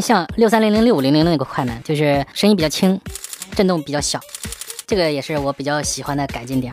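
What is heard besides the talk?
Sony A7R III mechanical shutter continuous shooting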